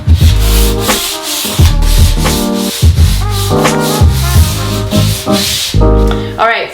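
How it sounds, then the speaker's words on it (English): Wooden baseboards being lightly sanded by hand, close rhythmic rubbing strokes in repeated bursts with brief pauses between passes. "I'm gonna go ahead and go back and sand them lightly"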